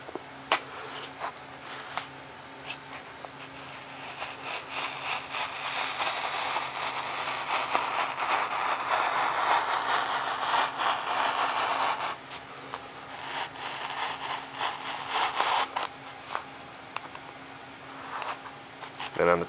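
A blade freehand cuts a foam fuselage piece for a Super Cub model aircraft, giving a steady scratchy rasping that swells and fades in long strokes, close up, with someone talking intermittently.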